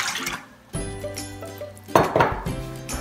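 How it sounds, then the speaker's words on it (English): Almond milk poured into a bowl of muffin batter ingredients, with dishes and utensils clinking at close range in two short bursts of handling noise. "Go ahead, pour your almond milk in here."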